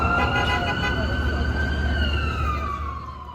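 Police sirens wail through Times Square in New York City, a rising and falling tone sweeping over steady traffic rumble, moderately distant and fading slightly at the end.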